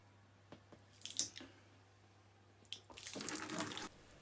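Water trickling from a siphon hose into a bucket while a fish tank is emptied, with wet splashy bursts early and a stronger gush of pouring water near the end, fairly faint overall.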